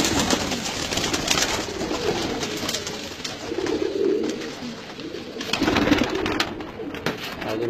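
Pigeons at a keeper's home coo in low, repeated rolls, loud and close, that swell twice over a steady background hiss, with no talk.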